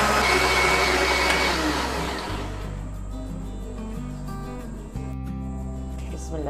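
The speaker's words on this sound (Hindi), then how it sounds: "और ब्लेंडर को चला देंगे।" A blender whirs loudly and steadily as it purées watermelon with a little water, its motor pitch dropping slightly partway through as the load changes, close and continuous.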